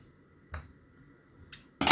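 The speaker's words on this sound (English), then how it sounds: "And now I'm going to snip this little end off." Scissors snip off a loose thread end on a fabric and lace project: a few crisp, short clicks spaced apart in a quiet room, the last one louder and closer.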